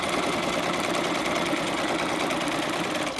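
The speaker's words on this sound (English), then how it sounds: "Now when you're sewing this, notice I'm sewing a curve on the corner." A sewing machine runs steadily while stitching a curved corner on a piped pocket, a fast continuous mechanical whir and needle patter, close and even throughout.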